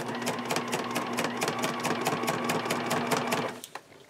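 Sewing machine stitching a pencil bag, its needle hammering in a fast steady rhythm with a humming motor underneath, running evenly for about three and a half seconds before stopping.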